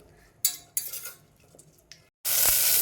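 Potatoes sauté in a pan, with bursts of sizzling, metal utensil clinks and scrapes against the pan, a brief pause, then a loud, steady sizzle close by and no talking.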